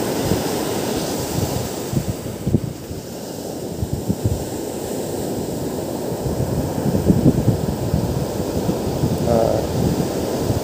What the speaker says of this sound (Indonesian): Walaupun ombaknya lumayan gede seperti ini, masih bisa ke pinggir